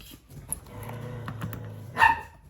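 A wet dog with the zoomies gives a couple of short, yippy barks and some low growly noise indoors. The sounds are moderately close, with one sharper bark near the end, and no talk.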